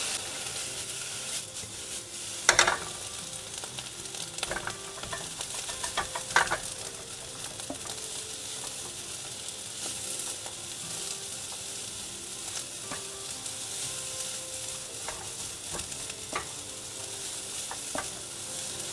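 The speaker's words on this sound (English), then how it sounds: "Drizzle the sauce down the edges of the wok, rotating around the rim twice, and let it sizzle until it stops steaming." Fried rice sizzles hard in a hot wok, a steady bright hiss with occasional clanks and scrapes as the rice is stirred and tossed, close and without talk.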